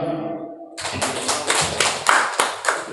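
An audience applauds at a community meeting on waste management, a burst of clapping that starts abruptly after a brief voice and continues loud and close for a couple of seconds.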